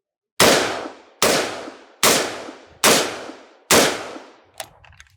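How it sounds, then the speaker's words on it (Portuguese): A 5.56 rifle fires SS109 ammunition in five loud, sharp shots spaced evenly about a second apart, each cracking and ringing off, followed by a fainter metallic clink. "vamos atirar com SS109"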